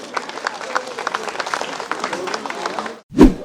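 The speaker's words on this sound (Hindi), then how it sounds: "कृपया तालियां बजाते रहें" Applause from an audience at an awards ceremony in Delhi, a steady mass of clapping for about three seconds that stops before a short, louder thump or voice at the end.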